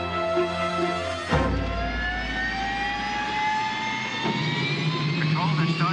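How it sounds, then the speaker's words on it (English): An aircraft's jet engines spool up from a low start into a rising, whining roar that keeps climbing and grows steadily louder, with voices heard alongside the engine noise in a 1985 hijack thriller. "They're starting the engines. They're firing up."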